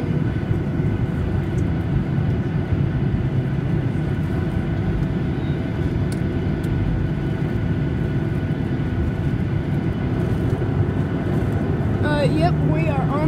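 Steady, loud airplane cabin rumble with a broad engine drone as the plane taxis onto the runway for departure from Oregon, continuous throughout with faint higher chirps near the end.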